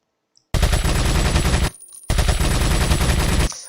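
Two long bursts of MP7 automatic fire in Resident Evil 4 Remake, loud, dense and rapid, separated by a brief pause, with a faint click before the first burst.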